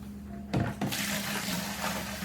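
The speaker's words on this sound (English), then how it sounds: "I'm dumping in the sparge water, which is at about 170 degrees with my water additions" Hot sparge water at about 170 degrees pours into the mash during all-grain brewing of a SMaSH beer. A steady close rush of liquid starts suddenly after a brief pause and continues to the end.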